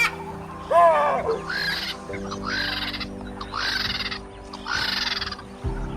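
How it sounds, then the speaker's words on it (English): A Cape baboon gives about five loud, harsh barking calls at steady intervals, each a rising two-part bark, over a quiet outdoor savannah background in early morning. "It's the call of the Cape baboon"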